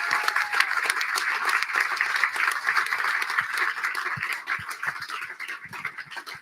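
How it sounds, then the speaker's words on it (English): Audience applause at a pub politics event on fracking, with steady, moderately distant clapping from a crowd of people continuing throughout, a few sharper individual claps standing out. "Can we please give another round of applause to everyone in the audience tonight"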